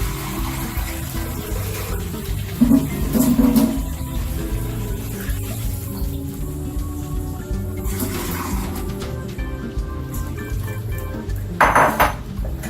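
Metal scraping and clanking as brown rice is stirred in a cooking pot for risotto, with a few louder clanks and water-like rushing noise in between.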